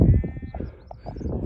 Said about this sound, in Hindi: ये जितने सारे बकरे हैं ना,